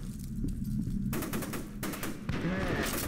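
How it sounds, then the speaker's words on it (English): Gunfire in the shooter game F.E.A.R. 2: continuous rapid automatic fire crackles loudly throughout, dense and unbroken, with a faint voice briefly under it. "I hear people shooting, so I'm guessing I'm super close to where I need to be"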